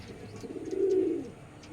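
A Matraj pigeon gives a single soft, rolling coo, rising and fading over about a second, close and quiet with no talk.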